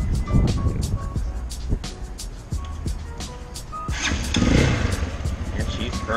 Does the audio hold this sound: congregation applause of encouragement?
no